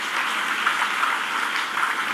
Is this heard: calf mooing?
no